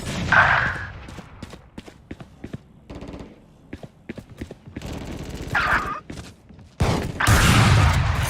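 Gunfire in the tactical shooter Valorant: sharp weapon shots in scattered bursts during a match, followed by a louder sustained stretch of shots and effects near the end.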